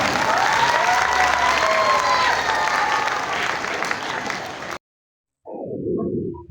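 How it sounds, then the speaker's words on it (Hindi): Steady, full audience applause at an Independence Day celebration at the PBM Sindh provincial office in Karachi, dense clapping that cuts off abruptly into silence before a brief resumption of sound. "तालियां बजाइए भरपूर अंदाज से।"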